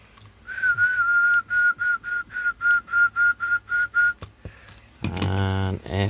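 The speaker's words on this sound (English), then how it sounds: "So it whistles up to about 100 watts there." A Cobra 200 GTL DX CB radio whistles while transmitting, a clear steady tone pulsing in about a dozen even bursts, then a louder burst of distorted speech near the end.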